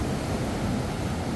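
Ocean surf washes up the shore in the rain with a steady, broadband rushing roar and wind noise, no voices.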